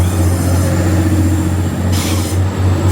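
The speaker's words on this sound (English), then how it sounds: "So this train can play us out now and we'll end the video." A train idles at a station platform with a steady low engine hum and rumble, loud and close throughout, with no voices over it.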